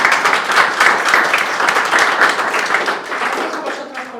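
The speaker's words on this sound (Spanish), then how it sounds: "¿Le damos un aplauso?" Audience applause at the close of a lecture on pain, dense sustained clapping from a crowd that fills the whole stretch and thins slightly toward the end.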